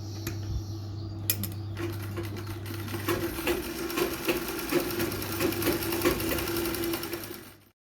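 A sewing machine stitches a nauvari saree in a fast, steady run of mechanical clatter that stops briefly, then starts up again and carries on until it winds down at the end.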